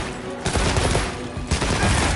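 Bursts of rapid gunfire in Monster Hunter Wilds, loud sustained crackling volleys with brief gaps between them.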